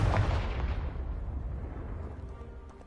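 A Confringo blasting spell explodes in the Hogwarts Legacy video game, landing as one loud booming burst that rumbles and fades away over a few seconds.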